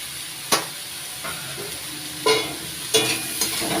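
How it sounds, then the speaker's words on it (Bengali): Potato and eggplant pieces with green chilli frying in a pan, a steady low sizzle broken by a few sharp scrapes and knocks of stirring, close, with no talk. "আলু আর বেগুনটা একটু ভেজে নিয়ে"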